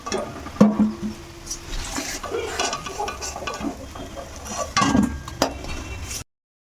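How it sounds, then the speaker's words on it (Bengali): Golden fried potato pieces scooped and strained out of hot oil, with steady sizzling and bubbling and occasional metal clinks of a slotted spoon against the pan, close up and without talk. "এখন এই আলুগুলো তেলের মধ্যে থেকে একদম ছেঁকে ছেঁকে তুলে ফেলবো"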